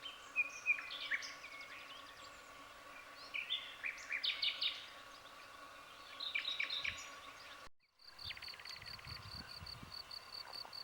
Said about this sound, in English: I hope this picks up the sound of the birds.